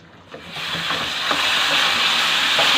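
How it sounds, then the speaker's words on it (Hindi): Water poured into hot semolina cooking for suji halwa, a loud, building steam hiss and sizzle with a few scraping clinks, close up. "अब इसके अंदर हम पानी शामिल करेंगे।"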